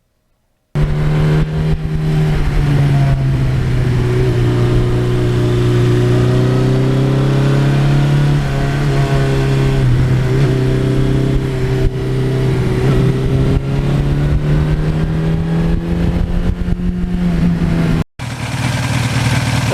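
A 1982 Suzuki GS1100E motorcycle engine runs steadily and loudly while riding, holding a strong even drone with slight pitch swells as speed shifts, cutting out briefly near the end before resuming.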